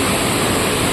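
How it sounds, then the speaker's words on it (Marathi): A flooded river rushes past during ongoing rain, a steady, loud, continuous roar of turbulent water filling the whole second with no other sounds on top. "हो नदी वाहतंय, पाऊस सुद्धा अजून चालूच आहे"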